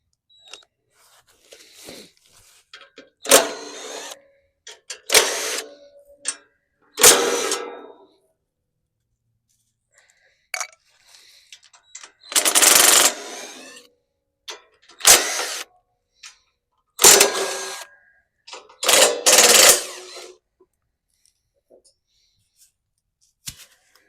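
Twelve-millimetre bolts are removed to take the cover off a Derette V1000 mulcher, with short, sharp bursts of ratcheting and metallic clatter separated by quiet gaps, close by.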